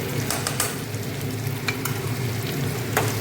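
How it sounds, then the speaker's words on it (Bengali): Cauliflower curry with salt and turmeric being stirred in a frying pan, a continuous close sizzle punctuated by several quick spatula scrapes, steady and unbroken throughout with no voices. "এবার একটু নেড়ে দিই। ভালো করে নেড়ে দিলাম।"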